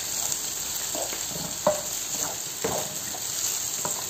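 Eggplant sizzling in hot oil in a pan, a steady close frying hiss with a few soft stirring scrapes and pops, no voices.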